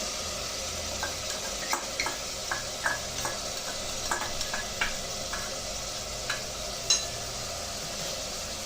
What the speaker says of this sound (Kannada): ಇವಾಗ ಇದನ್ನ ಚೆನ್ನಾಗಿ ಫ್ರೈ ಮಾಡಬೇಕು, ಸಾಫ್ಟ್ ಆಗಬೇಕು.